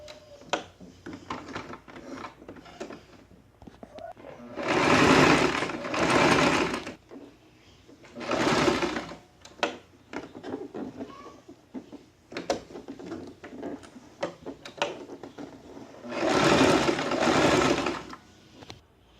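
A sewing machine stitches the folded fabric edge of a draped jacket in several close, loud bursts of rapid rattling, separated by short quiet pauses.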